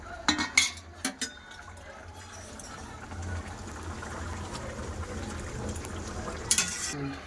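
Fish curry with potato and taro bubbling in a pot, a soft steady simmer with a few clinks of utensil against metal near the start and a brief sharp clatter toward the end.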